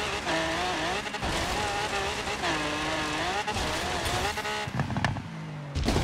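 A Lamborghini Aventador revs hard across gravel in the racing game Forza Horizon 3, its engine note rising and falling continuously and loud throughout, with a few brief tire or surface bursts near the end.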